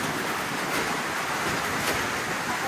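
Rough sea swells during a typhoon produce a steady, loud roar of surf and wind without a break, with no voices.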